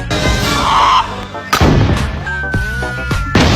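Several loud, sharp gunshot blasts crack close by, each followed by a ringing echo, spaced unevenly over a few seconds.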